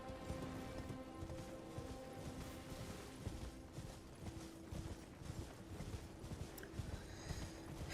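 A horse's hooves clip-clop in a video game, a soft, steady run of hoofbeats under a busy game soundscape at low level.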